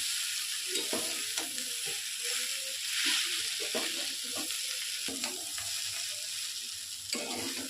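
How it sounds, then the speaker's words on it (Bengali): Maggi noodles fry in oil in a pan with a steady, soft sizzling hiss, broken by repeated scraping and stirring knocks from a utensil. "ম্যাগিগুলো তেলে ভাজা হয়ে গেছে"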